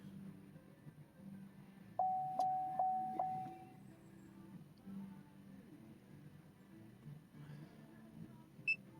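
Four short electronic beeps chime in a quick even sequence, a Chevrolet's low battery warning, then fade into a quiet hum of the vehicle cabin.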